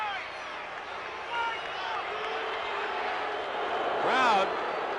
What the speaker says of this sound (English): Crowd still reacting to that call, and a good one by the officials